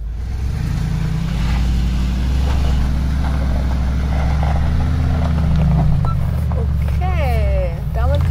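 A Mercedes G63 AMG G-Class climbs a small hill with differential lock engaged, its engine a deep, steady, loud rumble throughout while a person talks over it.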